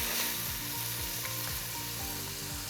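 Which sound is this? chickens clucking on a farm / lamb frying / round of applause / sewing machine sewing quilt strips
lamb frying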